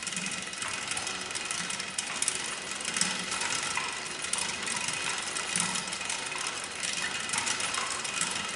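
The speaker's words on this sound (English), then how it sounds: "The carriage is feeding toward the faceplate right now." A metal lathe runs continuously as its carriage feeds toward the faceplate, a steady mechanical whir with faint rhythmic clicking of gears, even and close throughout.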